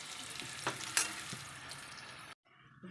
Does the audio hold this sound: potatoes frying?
yes